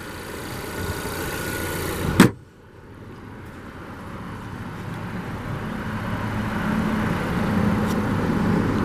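A 2019 Volvo XC40 T5 AWD engine idles with a low steady hum, broken by a sharp click or thump early on, then the rumble settles and continues evenly.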